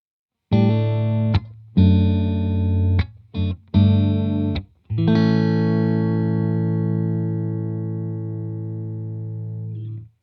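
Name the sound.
Stratocaster guitar, out of phase in-between pickup position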